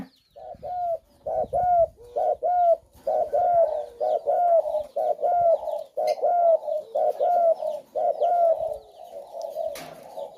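A spotted dove coos in a repeated rhythmic series of soft, hollow phrases, close and clear, with short gaps between calls and faint other birds in the background.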